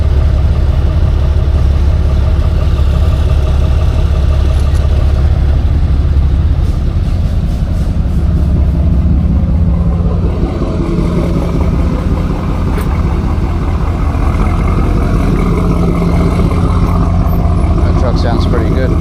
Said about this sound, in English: That truck sounds pretty good.